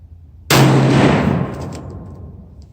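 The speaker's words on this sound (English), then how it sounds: "I'm gonna go for the 4th shot with Weatherby shooting bronze tip" A single loud, close shot from a Weatherby S2 rifle in 7mm Rem Mag firing a bronze-tip bullet bursts out suddenly after a quiet moment, then rolls away in a long fading echo.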